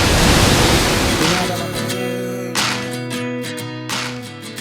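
A waterfall roars close by, a dense, loud rush of falling water that gives way to a more tonal, echoing wash of water noise.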